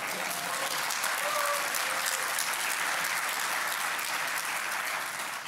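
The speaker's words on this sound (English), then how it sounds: "I wanted to ask your applause for Wrocław." A conference audience at the opening of the 2012 Wrocław Global Forum breaks into loud, dense, sustained applause that stays even from start to finish.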